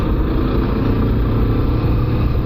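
A Suzuki Gixxer motorcycle pulls away again after a downshift, its engine a loud, steady close-up drone that holds throughout without pause.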